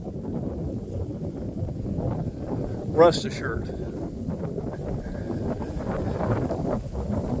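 Low, rumbling wind buffets the microphone outdoors throughout, with someone speaking briefly over the constant blustery noise.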